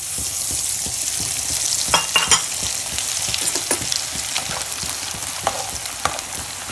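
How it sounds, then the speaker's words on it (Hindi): Kamarkas, an edible gum, frying in a pan for panjiri, giving a steady bright sizzle with scattered crackles and pops and a few sharper bursts near the start, close and continuous with no talking. "ये कमर कस भी अच्छे से बढ़िया से फ्राई हो गई है।"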